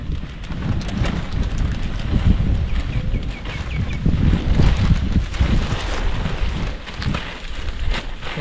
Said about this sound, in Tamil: காற்று பயங்கரமாக அடிக்குதுடா